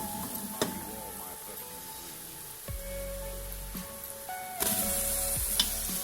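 Masala for palak gosht fries in a pan, with a crisp sizzle under repeated stirring clinks and scrapes of a spoon against metal, and a few low thuds as the pan is moved.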